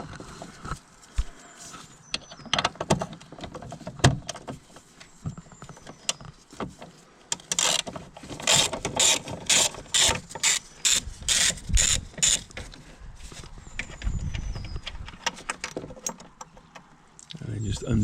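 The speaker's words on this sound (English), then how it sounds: "So got a 13mm socket we put on there." A ratchet with a 13mm socket undoes the bolt on the battery clip of a VW T5 van. It makes close, rapid clicking in bursts, loudest in the middle, and someone talks between the bursts.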